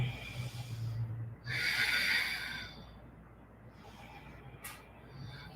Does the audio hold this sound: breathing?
yes